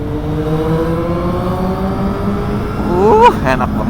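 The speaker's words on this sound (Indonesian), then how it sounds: "rame lalu lintasnya masih ya" A Kawasaki Z800 motorcycle rides through busy morning road traffic, its engine droning steadily before revving up sharply near the end, with other vehicles around it.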